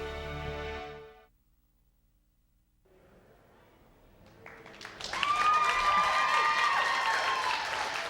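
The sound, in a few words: crowd applauding in a tent at the Calgary Stampede grounds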